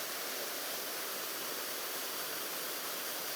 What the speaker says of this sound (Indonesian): Kita menikmati suara air terjun